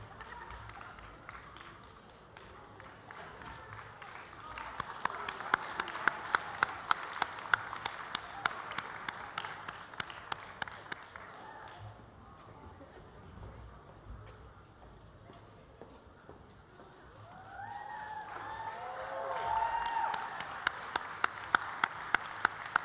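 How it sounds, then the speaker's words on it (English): Audience applause at a national cosplay championship, a broad steady patter of clapping that swells, fades in the middle, then rises again, with sharp camera clicks ticking through it and faint voices beneath. "Let's keep the applause going"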